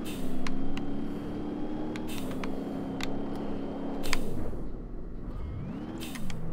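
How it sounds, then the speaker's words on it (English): A car with a dual-clutch gearbox and turbo in BeamNG.drive whines and revs at close range, the engine tone rising and falling with sharp ticking turbo flutters and clicks between pulls, no talk over it. "You're just gonna just hear a whole bunch of freaking turbo."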